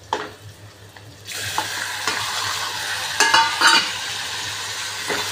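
Close, sizzling pasta being stirred and mixed in a frying pan, with repeated scraping strokes of the utensil over a steady frying hiss.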